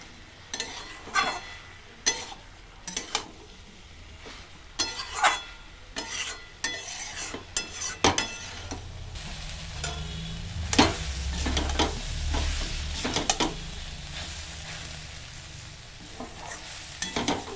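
Soaked soybean chunks and spices are stirred in a pan, starting with sharp, regular spatula scrapes over a low sizzle, then shifting to a fuller, louder frying hiss with fewer strokes.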